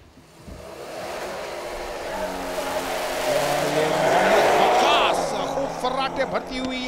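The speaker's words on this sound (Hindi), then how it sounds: "गाड़ी अपने ट्रैक पर रवा दवा और अच्छा स्टार्ट किया वकास ने" A rally car pulls away from an autocross start line, its engine revving hard and rising to a loud peak before easing off as it moves away, with a commentator talking over it.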